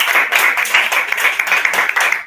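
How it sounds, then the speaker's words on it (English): Online audience clapping for a speaker over unmuted microphones, a brisk run of sharp, slightly compressed claps with uneven rhythm. "Give him a round of applause."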